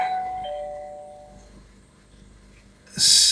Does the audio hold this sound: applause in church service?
no